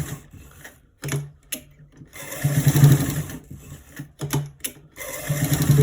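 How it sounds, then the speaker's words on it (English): Sewing machine stitching a trouser's double welt back pocket, running in several bursts with short pauses between them, close and fairly loud, with a voice talking over some of the stitching. "So we are stitching it from the top to the down, straight to the other top there"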